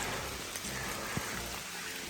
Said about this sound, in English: Rain just picked up a little heavier on me.